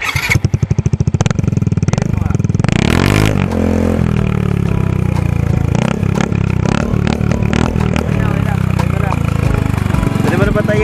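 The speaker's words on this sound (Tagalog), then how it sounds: "Soundcheck kami ng organ pipe mo" A 2021 Yamaha Mio i 125 scooter fitted with an aftermarket organ pipe exhaust idles close and loud with a rapid, popping putter. The engine surges into a sharp rev, then settles back to a steady, throbbing idle.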